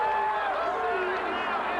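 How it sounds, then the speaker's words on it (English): Crowd at the 1994 Indianapolis 500 race, a broad, steady roar with overlapping voices as a car brushes the wall late in the race. "You should hear the crowd."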